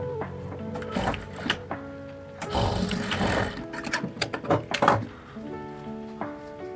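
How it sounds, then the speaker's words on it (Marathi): A sewing machine stitches a half-inch seam on a blouse, running in bursts of rapid mechanical whirring with thumps and rattles between stops, close and clear. "1/2 इंचाची शिलाई आपल्याला मारायची"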